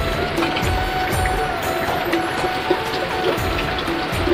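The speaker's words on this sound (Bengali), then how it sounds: "তো কত সুন্দর বৃষ্টি হচ্ছে দেখো।" Steady rain falls outdoors during a rainy-day afternoon, a continuous dense patter of drops on surfaces, moderately loud and unbroken throughout.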